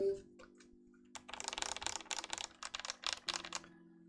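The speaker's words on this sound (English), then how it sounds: "here's what the actual keyboard sounds like." Fast typing on a mechanical keyboard with clicky switches and a solenoid, a loud burst of sharp clicks and clacks close up after a brief quiet start, with a steady faint hum in the background.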